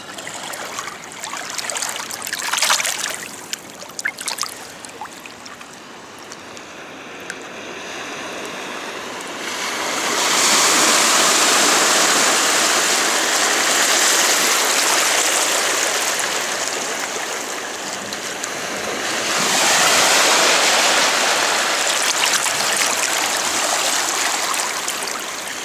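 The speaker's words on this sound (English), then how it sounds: "I'm going to give it a rinse off." Water splashing and rushing as a mudlarking find is rinsed in the River Thames, with two loud bursts of flowing, surf-like water standing out after quieter trickling and handling noises.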